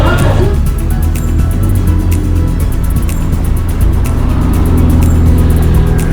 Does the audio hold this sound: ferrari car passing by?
yes